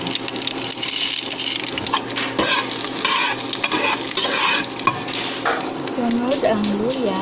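Garlic and chili sizzle loudly in hot oil in a frying pan, close by, with a steady crackling frying noise and repeated scraping stirring throughout.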